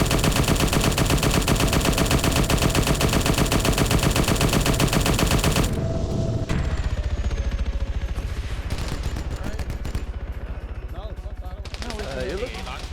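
Heavy, relentless automatic gunfire in Halo, loud and dense for several seconds before easing into scattered shots and explosions, with players chatting in the background.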